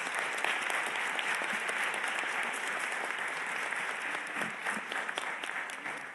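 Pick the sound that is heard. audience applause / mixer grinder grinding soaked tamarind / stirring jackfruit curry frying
audience applause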